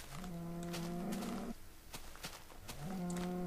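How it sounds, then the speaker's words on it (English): Cows in the Minecraft video game give two long, low synthesized moos on a mountainside, one near the start and another near the end, each loud and alone with no talking. "Look at all these cows."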